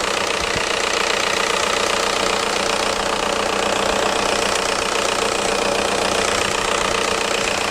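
BMW E28 with a swapped M54B30 inline-six engine running, a loud, steady idle with a dense mechanical clatter throughout, no talk.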